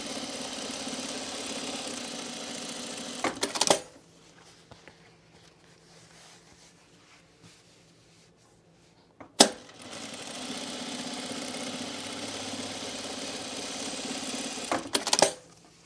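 A sewing machine stitches cargo shorts in two bursts of steady whirring hum, separated by a quiet pause with small clicks and a sharp tap between runs; no voices.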